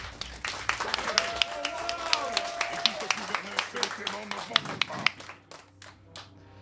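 A crowd claps and applauds at a Fnac gaming tour event, a run of sharp, closely spaced handclaps at moderate distance that thins out toward the end, with a voice talking over it.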